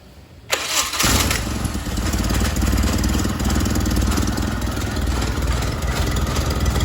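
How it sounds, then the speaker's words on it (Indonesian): An engine on a conventional-regulator charging system cranks briefly and catches, then settles into a loud, steady idle close by with no talking. "sekarang mesin akan kita coba hidupkan"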